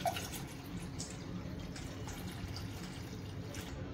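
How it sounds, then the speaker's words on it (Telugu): One litre of coconut water poured into a bowl for a jelly sweet, a continuous soft liquid pour with faint dripping, steady and quiet from start to finish, no speech. "ఒక గిన్నెలో 1 లీటర్ కొబ్బరి నీళ్ళు పోసుకోవాలి."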